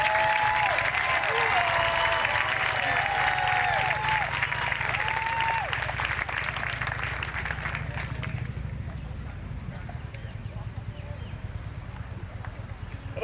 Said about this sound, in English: Another round of applause for the cadets who stand out.